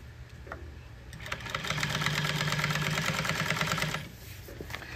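A sewing machine stitches marine upholstery for a boat gunnel in one fast, continuous run lasting a few seconds, a dense rapid mechanical chatter that starts and stops abruptly against a quiet background hum, close and fairly faint.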